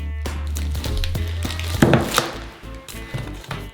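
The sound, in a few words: machete cutting a briquette of palm oil in half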